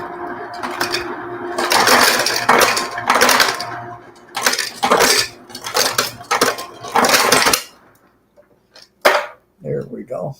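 Ice cubes clatter loudly from a home freezer's ice dispenser in repeated noisy bursts, followed by a few scattered clinks and brief talking at the end.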